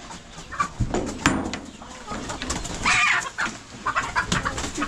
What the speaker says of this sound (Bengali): এটা হলো টাইগার মুরগি